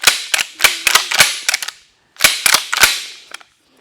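GForce GF2P 12-gauge pump shotgun being worked by hand: sharp, close mechanical clacks and clicks in two quick bursts, with a short pause between them.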